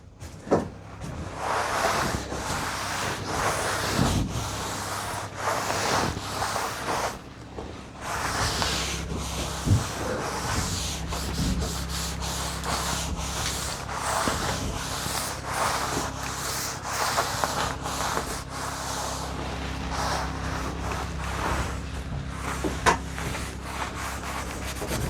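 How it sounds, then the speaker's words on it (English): Excess finish is wiped off a reclaimed wood sauna bench by hand, producing repeated soft rubbing strokes close by, a steady scratchy swishing rhythm that goes on at length with no talking. "And now I'll just wipe the excess."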